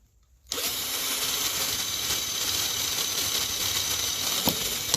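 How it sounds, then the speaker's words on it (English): A power drill boring holes to perforate a drainage pipe for a flooding basement starts abruptly and runs as a steady, loud whine close by, with a small knock near the end and no talk. "What I've done is I've perforated this pipe"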